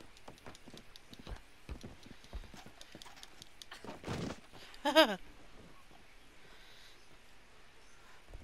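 Quiet, rapid clip-clop of horse hooves in the video game Red Dead Redemption 2 patters along, with a brief louder burst of movement midway before settling back to faint hoofbeats.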